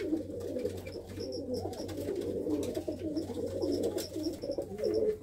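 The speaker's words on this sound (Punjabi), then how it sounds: "ਬਹੁਤ ਹੀ ਸੋਹਣੇ ਸੋਹਣੇ ਪਰਿੰਦੇ ਨੇ ਬਾਈ ਹੁਣਾਂ ਦੇ ਕੋਲ" Pigeons kept by a Punjabi pigeon fancier coo softly and steadily throughout, close by, over a low, constant background hum.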